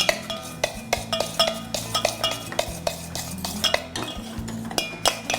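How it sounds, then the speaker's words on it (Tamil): A metal spoon stirs ghee and cardamom into a coconut burfi mixture in a pan, producing steady rhythmic scraping and clinking strokes close up, with no talking. "இருங்க நான் கலக்கிறேன்"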